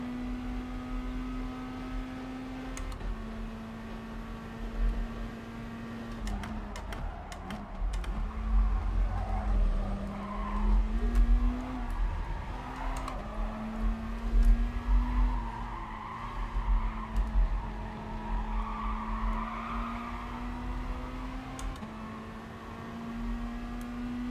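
Race cars in Gran Turismo Sport slide around a track, engines droning steadily while rough tyre scrubbing and squeal swell in the middle and later stretches, all at a moderate level with no talk.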